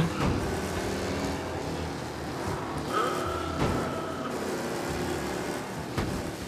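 A damaged car drives through a narrow tunnel with traffic in the video game Mafia, a steady engine drone with passing whooshes and a couple of sharp knocks.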